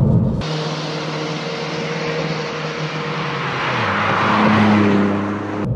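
A Ford Fiesta ST Mk8.5 accelerates hard from second gear into third, its engine note rising loud and close from inside the cabin, dipping briefly at the shift before climbing again.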